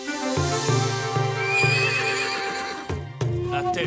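A wild cartoon pony gives a clear, loud whinny over background music, followed by galloping hoofbeats, with no talking.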